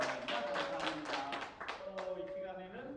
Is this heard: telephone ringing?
no